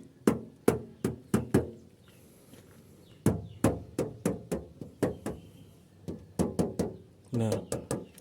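Knuckles rap on original, unfilled body sheet metal of a Daihatsu Zebra Espass in quick bursts of three to five knocks separated by short pauses, close and ringing, with faint background noise between groups.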